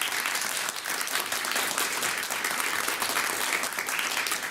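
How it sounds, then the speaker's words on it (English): Audience applause for the coaches of both teams at a student quiz competition, steady and sustained clapping from a crowd that fills the room evenly for several seconds with no talking. "Let's give a big round of applause to the coaches for both teams"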